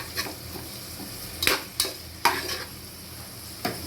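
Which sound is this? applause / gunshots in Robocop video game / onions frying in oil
onions frying in oil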